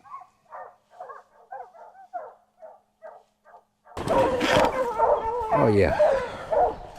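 Several hounds bark in a chorus at bobcats treed in thick brush at dusk, steady close barks at first, then a louder burst of excited baying with a voice over it.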